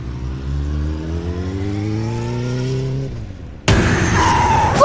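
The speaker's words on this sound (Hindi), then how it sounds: "सड़क पर वो अपनी बाइक के साथ घसीटते हुए कुछ दूरी पर जा रुका" A motorbike engine revs with a rising whine, cuts off, then a harsh scraping burst follows as the bike skids along a road, loud and close.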